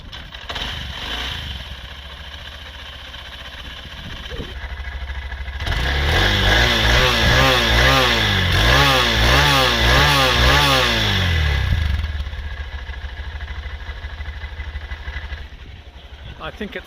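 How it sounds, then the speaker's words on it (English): A 2023 Honda CB125F single-cylinder motorcycle starts up and settles into a steady idle, with a stronger revving surge in the middle before it drops back to a quieter, even tick-over close by. "kick the bike over, by which I mean start it up, let it warm up"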